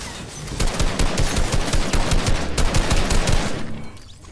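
Rapid automatic gunfire in the video game Fortnite, a loud dense burst of shots sounding continuously for several seconds before cutting off.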